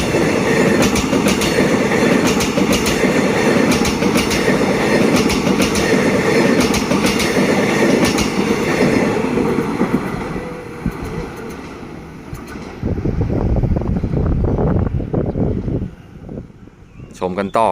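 A train rumbles loudly and steadily nearby with rhythmic wheel clatter, then the noise thins and fades as it moves away, passing through Pak Tho railway station in Ratchaburi, Thailand, at a crossing without barriers.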